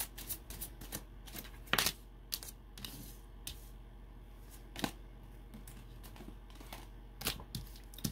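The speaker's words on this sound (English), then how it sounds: "Let's get some cards down on the table, though." Tarot cards slapped and slid onto a table in a close, quiet room, with scattered crisp flicks and snaps, a few louder ones, over low steady background hum.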